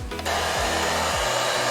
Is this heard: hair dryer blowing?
yes